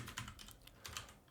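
Quick, soft clicks of typing on a computer keyboard, several keystrokes in a short irregular burst, close and quiet with no voice.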